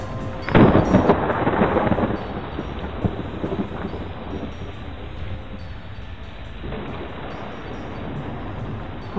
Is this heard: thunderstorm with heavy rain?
yes